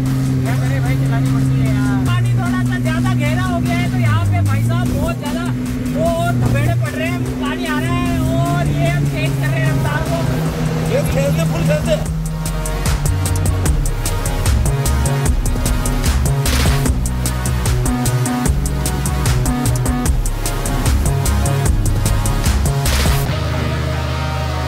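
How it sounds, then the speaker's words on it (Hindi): A petrol car drives through deep sea water, its engine humming and revving steadily under near-constant talk, with a rougher, denser churning stretch in the second half. "समुंदर में गाड़ी चलाना सीख गया तू आज से, है ना?"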